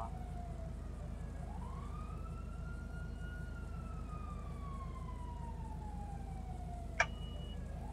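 A police siren wails and sweeps up and down across the whole stretch in a GTA Online chase, sounding fairly distant over a constant low engine-like drone, with one sharp click near the end.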